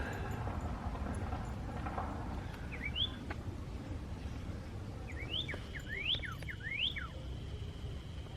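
A lively bird at a Lake Murray campground (Elephant Rock loop) gives short rising whistled chirps, one pair early and then a quick cluster of several, fairly close over steady outdoor background noise.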